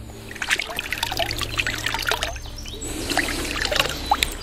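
Water trickles and splashes while an old metal Louis XVI coin found in a stream near a château is rinsed, irregular close dribbling and drips, fairly faint, with no talk.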